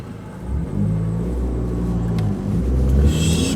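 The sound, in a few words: car accelerating across an intersection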